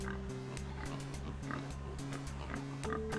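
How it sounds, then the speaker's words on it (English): Repeated chiptune-like pig oinks from the DOS adventure game Downunder Dan, rhythmic grunts layered over a droning, stepping tone bed, steady and fairly loud throughout. "The pigs look a bit peckish."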